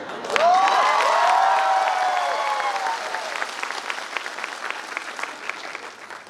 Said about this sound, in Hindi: मंदिर वाला जोश वाला ताली भी बजाता है।